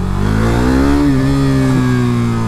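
A 2017 KTM RC390 sport motorcycle revs loudly and steadily close by, its engine note climbing and then holding high for a couple of seconds with a brief dip near the end, with no one talking.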